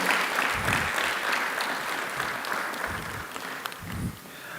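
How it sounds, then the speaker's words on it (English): Audience at a Nigerian trade fair roadshow event applauding, a dense continuous clapping that fills the whole stretch before fading slightly at the end. "Please, a round of applause for Kanayo."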